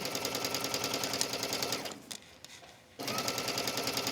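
A sewing machine stitches slippery cork fabric in a fast, loud, rapid clatter that stops for about a second mid-run, then resumes at full speed.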